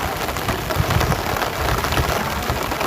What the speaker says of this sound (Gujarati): વરસાદ એટલો ચાલુ છે પાછો